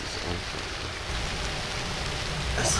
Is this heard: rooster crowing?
no